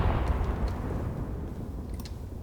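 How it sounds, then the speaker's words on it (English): Mortar artillery fire in the war game Graviteam Tactics, a dense, continuous low rumble of distant blasts and booms rolling on without a break. "I need to keep the mortars shooting."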